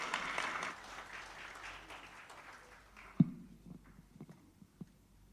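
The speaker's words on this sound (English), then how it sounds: "Please give applause to Dr." Brief applause from a conference audience at a physics and materials science meeting, a short burst of clapping at the start that quickly thins out into a few scattered claps and room noise.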